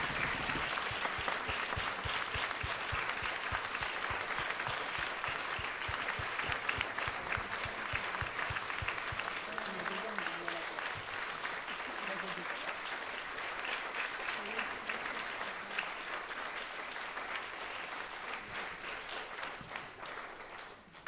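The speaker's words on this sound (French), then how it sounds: "Un tonnerre d'applaudissements, s'il vous plaît, pour Claire" Sustained audience applause at an evening show's closing bows, a dense steady patter of many hands clapping for about twenty seconds, fairly loud and even, with faint voices and cheers mixed in beneath.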